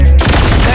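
A loud, close burst of rapid gunfire, dense and continuous after a brief low thump, with no gaps in the short stretch.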